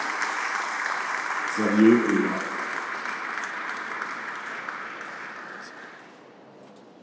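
Applause breaks out at an aircraft museum inauguration ceremony in France, a moderate crowd clapping steadily that slowly fades toward the end, with someone speaking briefly over it near the start.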